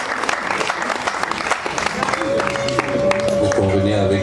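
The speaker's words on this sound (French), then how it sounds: "On va applaudir pour la famille Chassel" A congregation applauding at a thanksgiving mass, dense clapping from a large crowd that carries on while a sustained tone and low voices rise beneath it toward the end.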